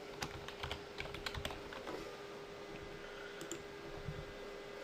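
Someone types on a computer keyboard in a quick burst of light clicking keystrokes, near and fairly soft over a steady background hum.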